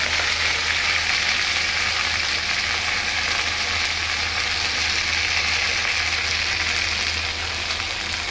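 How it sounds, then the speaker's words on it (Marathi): Fenugreek leaves frying in oil with garlic in a pan, a steady close sizzle with crackling that holds at an even loudness throughout, with no talk. "मेथीची भाजी घालून झाली की आपण हे तेलात आणि लसणामध्ये मस्त फ्राय करून घ्यायचं"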